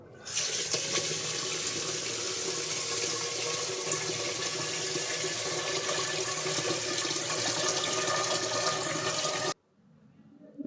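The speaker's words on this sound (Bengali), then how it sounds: "এ পাশে আমি ভাত বসানোর জন্য এই যে চাল ধুয়ে নেব" A kitchen tap runs steadily while rice is washed, a bright continuous gush of water for about nine seconds before it cuts off abruptly, followed by faint handling sounds.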